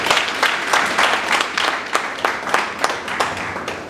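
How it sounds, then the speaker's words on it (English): Conference audience applauding a speaker's introduction, dense clapping from a room of people, loud and steady, with faint voices underneath. "can you please welcome and regain with a round of applause."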